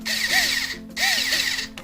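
A power drill punches holes through a thick throttle body gasket during a throttle body install on a Jeep TJ, giving two short whining bursts with a rising-and-falling pitch, each just under a second, close and fairly loud.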